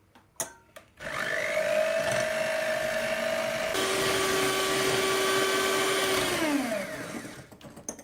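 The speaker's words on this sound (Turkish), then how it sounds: "3 adet yumurtam var. Bir su bardağı toz şekeri güzelce çırpıyorum." Electric hand mixer whisking three eggs with a glass of granulated sugar for a soft lemon cake, a steady loud whir running about six seconds and dropping in pitch midway before winding down at the end.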